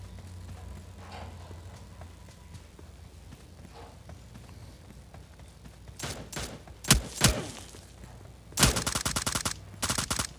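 Gunfire in the battle royale game PUBG Lite: a quiet stretch of footsteps and ambience, then sharp bursts of shots, a few close single cracks followed by rapid volleys near the end.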